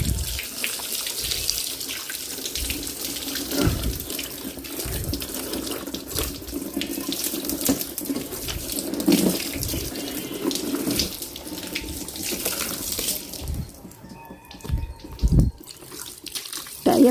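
Running water from a hose splashes steadily over a scooter for most of the clip, a continuous spray with brief pauses near the end.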